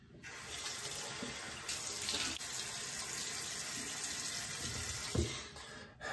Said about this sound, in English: Rinse this off, go for a third pass.